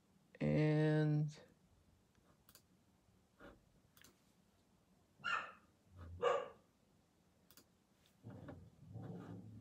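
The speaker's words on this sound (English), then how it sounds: "my dog is angry at something." A dog lets out a loud, sharp bark at the start, then quieter yips and clicks follow with pauses between them. A person talks at low level indoors during the gaps.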